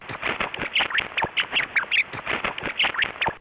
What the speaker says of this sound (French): les rats émettaient des sons courts et aigus pour exprimer leur joie